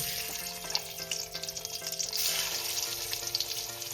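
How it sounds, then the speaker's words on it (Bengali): Eggs fry in hot oil for a Bengali egg curry, a continuous close sizzle and crackle with small pops, steady and fairly quiet with no talking. "আমি এই ডিমগুলোকে এক এক করে তেলের মধ্যে দিয়ে দেব।"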